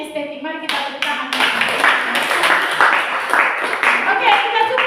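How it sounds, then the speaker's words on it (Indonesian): A classroom group claps together, starting with a few hands and swelling into steady applause that continues to the end, with some voices mixed in. "Mari kita tepuk tangan."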